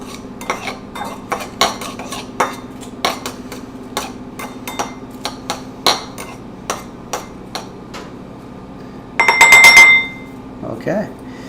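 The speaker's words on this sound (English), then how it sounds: "Now let's just stir it up a little bit." A utensil stirs food in a bowl for vegan Korean buffalo cauliflower wings, making a quick series of sharp clinks and taps up close. A louder scraping burst comes near the end.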